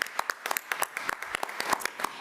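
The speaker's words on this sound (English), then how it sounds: "So let's give Ms. Ellis another round of applause." A meeting audience applauds Ms. Ellis with scattered, fairly close hand claps, individual claps distinct and uneven in rhythm, moderately loud for a couple of seconds.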